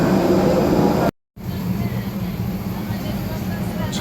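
Airplane engines roar in a steady broadband drone while passengers board a plane bound from Madina, with a brief dropout early on and people talking underneath.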